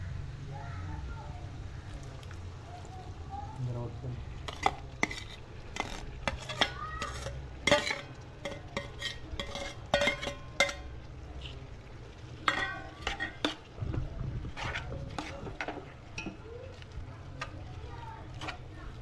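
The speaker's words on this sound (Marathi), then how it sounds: "याच्यामध्ये आता आपण टमाटर टाकणार आहोत" Tomatoes stirred into cooked onions in a pot for prawn biryani, rapid scraping and clinking of a spoon against the pot over a low sizzle, with brief talk.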